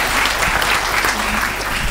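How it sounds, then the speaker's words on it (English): An audience at a talk on saving the NHS breaks into dense, sustained clapping that fills the room at close range and runs evenly from start to finish. "Yeah, so you can clap if you want to."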